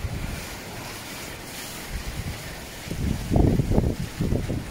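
Strong Typhoon Ulysses wind roaring with surging waves, gusts building louder toward the end, buffeting close to the microphone with no voices.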